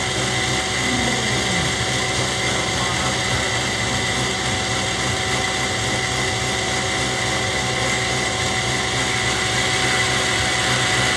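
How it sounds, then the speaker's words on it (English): A thickness planer runs continuously as a wooden strip feeds through, a loud, steady mechanical whine and roar that holds without pause for the whole stretch. "I'm just gonna run it through the planer a few times and get it back to uniform width."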